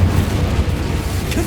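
A fire spell cast in the video game Hogwarts Legacy, heard as a loud, dense low rumble and whoosh that lasts through the moment, with a brief flare near the end.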